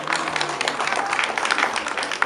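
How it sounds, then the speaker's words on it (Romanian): Short burst of applause from guests at a restaurant party, moderate clapping from a small crowd with some background voices. "Aplauze!"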